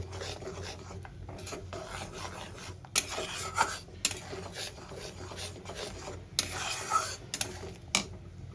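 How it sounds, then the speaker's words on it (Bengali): Spiced masala for a katla fish curry scraped and stirred in a pan over low to medium heat, a steady close rasping and rubbing with occasional sharper scrapes of the spatula, faint talk underneath. "মশলাটা দেখো আমি সুন্দর করে কষিয়ে নিচ্ছি"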